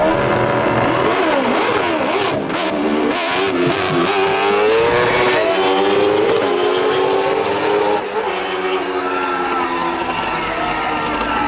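Racing engines from double-decker bus racing play back loudly, with rising and falling engine whines, revving and shifting pitch sweeping through the whole stretch, while a voice is faintly present.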